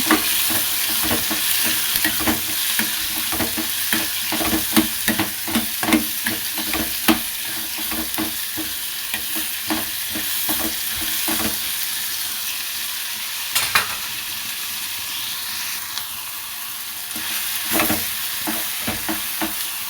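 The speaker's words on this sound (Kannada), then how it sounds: "ಟೊಮೆಟೊ ಒಂದು ಈರುಳ್ಳಿ ಸ್ವಲ್ಪ ದಪ್ಪದ್ದು ಒಂದೆರಡು ಬೆಳ್ಳುಳ್ಳಿ ಮತ್ತು ಒಂದು ಸ್ವಲ್ಪ ಕೊಬ್ಬರಿ ಒಂದು ಸ್ವಲ್ಪ ಶುಂಠಿ ಇಷ್ಟನ್ನು ಕಟ್ ಮಾಡಿ ಇಟ್ಕೊಂಡಿದ್ದೆ ಅದನ್ನು ಒಂದು ಸ್ವಲ್ಪ ಎಣ್ಣೆಯಲ್ಲಿ ಫ್ರೈ ಮಾಡ್ಕೊತಾ" Tomato, onion, garlic, coconut and ginger fry in oil, giving a continuous close sizzle punctuated by frequent scraping stirs of a spoon against the pan, with no talking.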